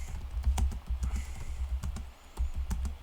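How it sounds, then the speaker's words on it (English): Typing on a computer keyboard, quick irregular clacks of keys close by, steady bursts of taps with short pauses, no talking. "Let me go ahead and type to you guys."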